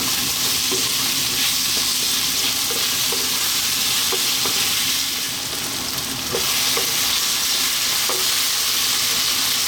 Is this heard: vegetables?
yes